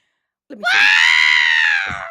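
A human voice imitates R2-D2's scream from Star Wars, a single loud, sustained high-pitched electronic-sounding wail lasting about a second and a half, with a few spoken words at its start.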